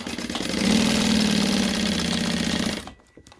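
A sewing machine stitches tape onto a surgical wrap face mask, a steady, even mechanical whir that runs close and loud for nearly three seconds before stopping abruptly.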